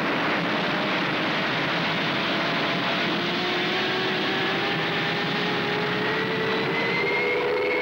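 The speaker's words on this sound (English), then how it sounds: "We have liftoff." A rocket lifting off gives a loud, continuous broadband roar that holds steady for several seconds, with a faint rising whine inside it and no voices.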